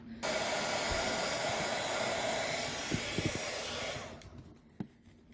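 A heat tool blows a loud, steady hiss of hot air over embossing medium for about four seconds, then shuts off, leaving faint handling taps.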